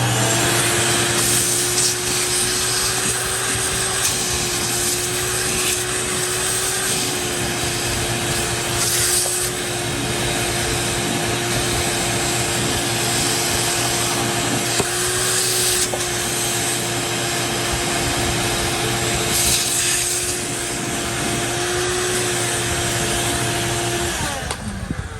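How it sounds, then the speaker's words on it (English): A shop vacuum runs steadily, sucking grease and sawdust out of a 60-year-old Shopmate circular saw during a repair, as a loud continuous roar with a constant whine and faint rubbing scrapes, with no speech. "Let's vacuum that out"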